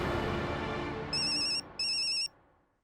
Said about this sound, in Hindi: आई का फोन है।